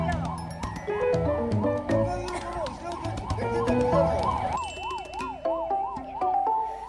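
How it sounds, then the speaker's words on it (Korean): A 119 ambulance siren wails in a rapid rising-and-falling pattern, loud and close, while stuck in congested traffic at a roundabout, with other siren tones and street noise overlapping. "119 구급차가 지나갈 수 없는 긴박한 상황이 고스란히 담겨 있었는데요"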